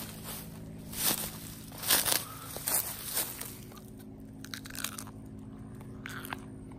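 Someone outdoors on a hiking trail chews a crunchy wild plant that tastes like cauliflower, making a few close, loud crunching bites at first, then fainter chewing and crackles fading out.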